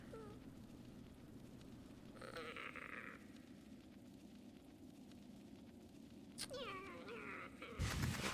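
A cat meows in the Hollow Knight video game, a few distinct calls rising over a low, steady ambient game backdrop, fairly faint and with no voices.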